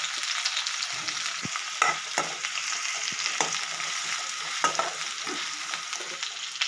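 Shallots and chili hit hot oil with popped mustard seeds in a pan for a Kerala jackfruit curry, giving a steady close sizzle punctuated by repeated scraping stirs, with no talk.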